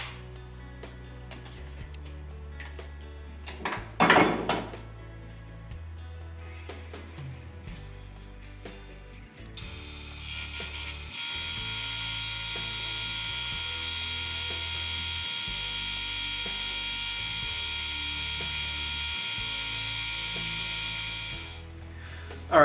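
A lathe turns down a metal piece for a fantasy dagger, taking four inches of stock down to three-eighths. Mechanical hum and clunks come first, then a steady high whine of continuous cutting runs for about twelve seconds and fades out.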